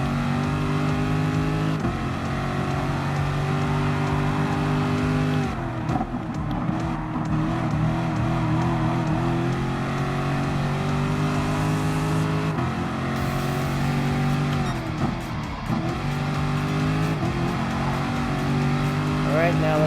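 GTLM race car engines roar continuously in Gran Turismo Sport during a Gr.3 endurance race at Le Mans, with sustained revving and shifting engine tones throughout, under steady talk.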